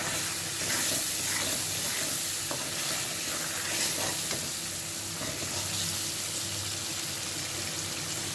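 Spice paste with ground cumin, ginger paste and salt sautés in a pan before duck meat goes in, a steady close hiss of frying with soft occasional scrapes and no speech.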